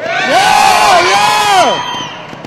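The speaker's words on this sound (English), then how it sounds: "I'm going to need you guys to scream really loud" A crowd screams and cheers loudly at an Oklahoma City motorcycle trials stunt show, sustained whoops and yells rising and holding for about two seconds before fading, with children's high voices mixed in.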